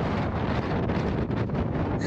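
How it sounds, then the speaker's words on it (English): Strong wind on Lombok Island, Indonesia buffets the microphone continuously, a loud roaring rumble with gusty fluctuations and no other sounds. "it's so windy."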